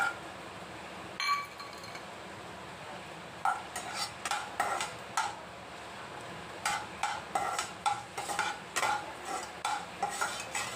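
A spoon clinks and scrapes repeatedly against a pan as cashews and almonds are stirred and roasted in ghee, giving irregular metallic taps with a faint sizzle underneath.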